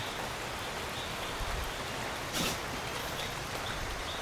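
Steady rain falls in a home kitchen area during a typhoon, a dense, even patter with a slightly louder splashy burst partway through and no talking.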